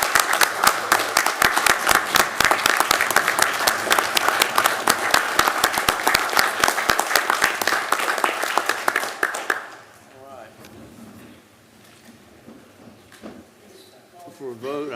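Dense applause from a council meeting audience fills the room for about nine seconds, loud and continuous with sharp individual claps, then cuts off to quiet room noise and faint movement.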